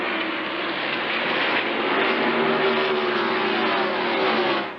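NASCAR stock cars race at the 2000 All Pro Bumper to Bumper 300, a loud, sustained engine roar that swells and drones steadily as the field passes, with a faint rising pitch and no speech.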